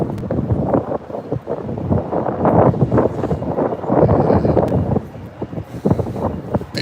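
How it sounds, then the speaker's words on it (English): Strong wind buffets the microphone outdoors, a loud continuous rumbling roar that surges and dips in uneven gusts throughout, with no other sound rising above it. "Didn't expect this wind to come up."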